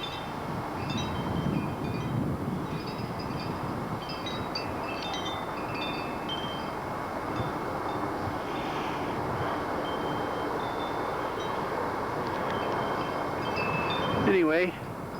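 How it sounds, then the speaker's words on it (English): Steady wind buffets the microphone for the whole stretch, a continuous roaring rush with a short clattering burst near the end. "Nice day today, a little windy"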